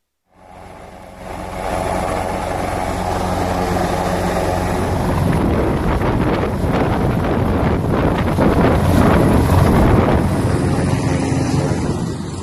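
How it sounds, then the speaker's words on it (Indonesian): An Indonesian Air Force Caracal helicopter landing on a hillside fades in to a loud, constant rotor roar with wind buffeting, growing slightly stronger and choppier toward the end, with no voices. "visual yang Anda saksikan ini adalah saat helikopter Karakal TNI AU yang mengambil keputusan kritis dengan mendarat di lereng bukit"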